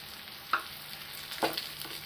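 Tomato puree sizzles in a frying pan while achari paneer is cooked, giving a faint, steady hiss with a couple of short scraping stirs.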